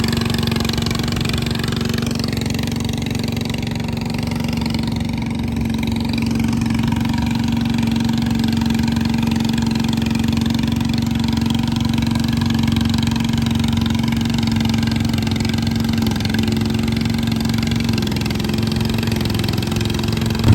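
A pulling tractor weighted to 1,250 pounds for a tractor pull runs steadily at close range, its engine holding a constant, loud, throbbing drone for the whole stretch with no one talking.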